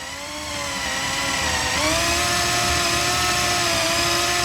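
A power drill whines steadily at high speed, its pitch shifting slightly as it bites into the wood of a 1994 Fender Telecaster body, loud and close.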